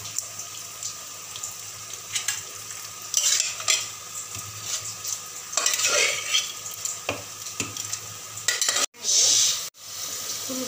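Cooked mutton being stirred into biryani in a pot, a steady scraping and stirring with soft sizzling close by, a brief louder burst near the end and no talking.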